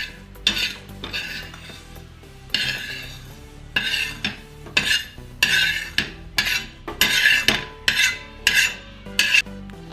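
Masala for a kadai chicken curry is dry-roasted in a pan with a metal spoon, giving quick, rhythmic scrapes and clinks, close and clear, with a faint low hum between strokes.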